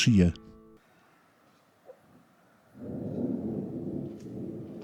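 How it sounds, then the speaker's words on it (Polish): A brief voice at the start, then a low, steady rumble of thunder rolls in and holds, heavy and broad, from a mountain storm overhead in Bosnia. "Prawdziwa górska burza."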